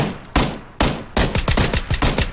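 Rapid gunfire in PUBG: Battlegrounds, two separate loud shots followed by a fast run of about eight close, punchy shots with sharp attacks and short decays, with no talk over them.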